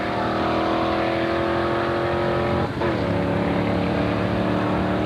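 A nitrous-fed Chevy Nova launching down the Carlsbad Raceway drag strip in 1990, a loud sustained engine roar with a steady pitch that breaks briefly midway and then resumes, heard from trackside.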